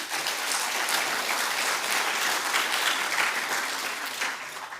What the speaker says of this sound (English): A big hand and a round of applause.